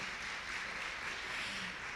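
Soft, distant applause from an audience at a children's ministry lecture, an even patter of many hands clapping at low volume, continuous and without voices.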